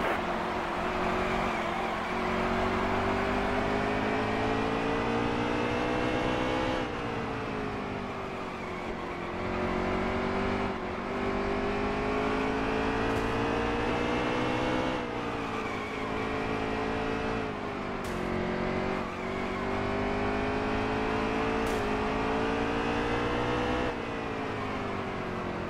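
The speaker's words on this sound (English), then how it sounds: "Got a car coming inside now." Race cars roar around the track at the Food City 500, a continuous loud engine drone with rising and falling pitch as the car shifts gears and other cars pass close by, with no voices.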